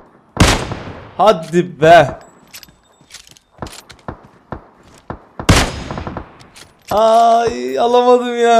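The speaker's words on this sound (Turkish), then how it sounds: "Deli gibi sıkıyor ha" Gunfire in the video game PUBG Mobile: a few sharp, loud shots and scattered clicks between bursts of someone talking, with a sustained synthetic tone near the end.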